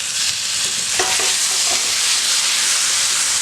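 Chopped tomato going into frying onions for rava kichadi gives a loud, steady sizzle with a few spoon stirs and scrapes near the middle, close up and without talk.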